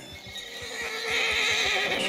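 In Red Dead Redemption 2, a horse whinnies nervously at a nearby predator, a long high neigh rising over steady clip-clopping hooves, close by with no talking.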